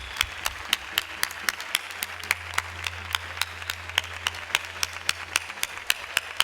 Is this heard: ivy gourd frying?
no